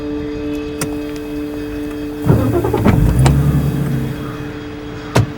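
A car engine turns over and idles with a few sharp clicks and door or window sounds, moderately loud and close, with no talk over it.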